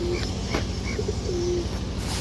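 A single pigeon for sale gives a few soft, low coos with short pauses between them, close by against a steady background hum. No one speaks.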